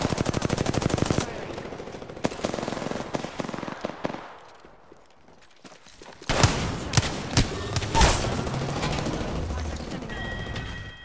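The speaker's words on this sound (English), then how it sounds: "Someone's got a shot on me" Rapid automatic gunfire in the Apex Legends video game, aimed at the player as Wraith: loud, dense bursts, a brief lull, then renewed heavy firing with sharp individual cracks.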